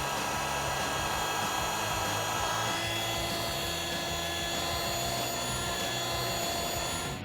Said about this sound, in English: let's pump up our air mattress